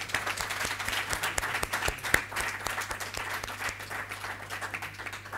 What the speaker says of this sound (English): I think one more round of applause will do